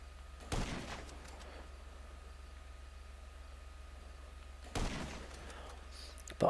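Gunfire in GTA Online, two sharp, loud shots a few seconds apart over a quiet hum, each followed by a short decaying tail, with another blast starting at the very end.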